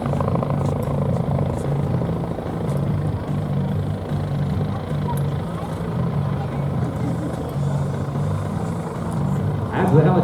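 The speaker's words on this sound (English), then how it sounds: "As the helicopter makes its reposition" A helicopter at an airshow: a steady low rotor throb with engine drone fills the whole stretch, loud and continuous, with a brief louder burst at the end.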